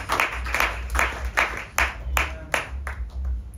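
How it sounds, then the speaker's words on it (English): A church congregation claps hands in a steady rhythmic beat of praise, dense and fairly loud, with a continuous backdrop of room sound. "Give him a good hand clap of praise."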